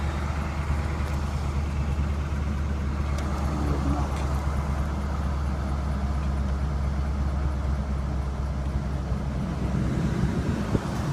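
Warming up after a cold start, a 2011 Chevy 3500HD gas pickup idles with a constant low, even rumble, close and steady throughout, with faint wind noise and a few small clicks on top.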